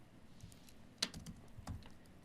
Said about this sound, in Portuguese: Vou colocar com o teclado mesmo para ficar melhor.